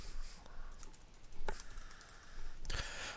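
A few computer keyboard keys clicked for a shortcut, sparse sharp taps spaced apart, quiet and close, with no talking.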